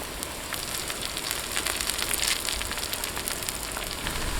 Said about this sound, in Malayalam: ഇനി നമുക്ക് കുറച്ച് കറിവേപ്പിലയും കൂടി ഇതിനകത്തേക്ക് ഇട്ട് കൊടുക്കാവേ